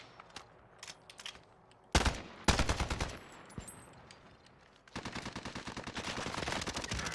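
Call of Duty gunfire crackles in bursts: a few scattered single shots, then heavy rapid automatic volleys, a pause, and a long sustained stream of loud rhythmic machine-gun fire.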